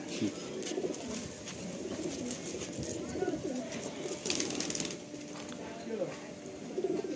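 Madrasi pigeons coo softly in repeated low, throaty phrases close by, with faint rustling between calls.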